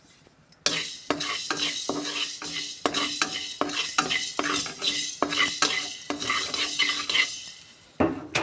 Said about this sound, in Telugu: నేను చికెన్ పచ్చడి పెడుతున్నాను. చూడండి, ధనియాలు వేపుకుంటున్నాను.